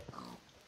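A pig grunts once, briefly and quietly, in the Minecraft video game, a short low oink standing alone with no talk over it.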